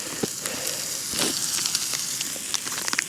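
Veggie mince and mixed vegetables frying in a pan on a camp stove outdoors, a steady crackling sizzle with scattered pops and light utensil clicks, close and continuous.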